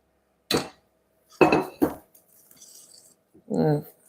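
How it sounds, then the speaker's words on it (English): A whisk works butter into waffle dough in a bowl, with a few sharp clinks and taps against the side separated by short pauses, close and fairly quiet. "I try to whisk it gentle to bring everything together"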